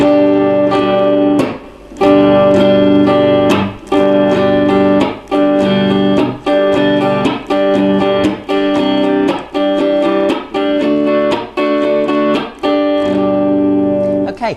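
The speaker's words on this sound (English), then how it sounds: "So this strumming pattern is a downstroke, an upstroke, a chop" An acoustic guitar strums a steady repeating down-up-chop pattern, each bar punctuated by a sharp muted percussive chop, bright and close, with no talking.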